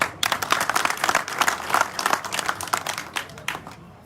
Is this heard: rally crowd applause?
yes